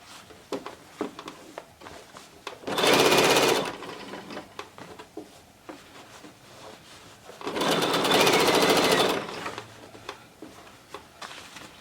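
A sewing machine runs two steady bursts of stitching along a half-inch seam on a men's casual dress shirt, each burst lasting about a second and close to the microphone, with quiet handling clicks between them.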